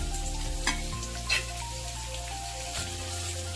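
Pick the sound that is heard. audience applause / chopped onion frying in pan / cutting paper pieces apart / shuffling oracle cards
chopped onion frying in pan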